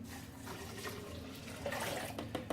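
Water pours steadily into a blender jar, four cups going in over one cup of rice, a continuous close splashing rush that swells slightly toward the end, with no talking.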